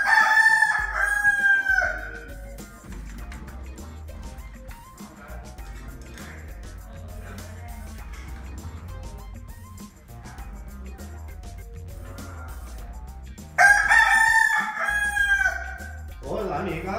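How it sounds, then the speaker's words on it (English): A rooster crows right outside a door: a loud, close cock-a-doodle-doo at the start, then a stretch of quieter rustling and background noise, and a second full crow near the end. "all of a sudden I hear this flapping and cacawing right outside my door."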